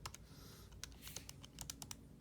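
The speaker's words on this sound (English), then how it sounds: "While I'm typing this in" Rapid typing on a computer keyboard, with close, crisp keystroke clicks coming in uneven bursts and no voices.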